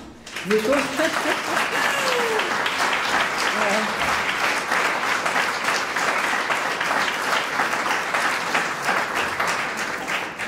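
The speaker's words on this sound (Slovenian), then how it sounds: "Mi bomo tukaj blazno zaploskali" An audience applauds steadily and loudly for the whole stretch, a dense wash of clapping, with a few brief voices rising at the start, during a chat event with artist Jože Ciuha.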